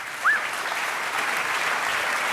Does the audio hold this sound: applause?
yes